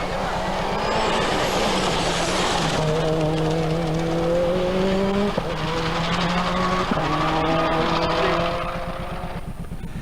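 A rally car on an ice stage at the Ice Rally 2000 runs at high revs, its engine note rising through gears with short shift breaks, loud and close, then fading slightly at the end.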